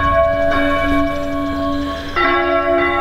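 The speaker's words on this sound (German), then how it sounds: "dass die Kirchenglocken hier immer läuten, wenn ich lang gehe" Church bells peal steadily and loudly nearby, a clear resonant ringing that continues throughout, with a fresh stroke swelling the sound partway through.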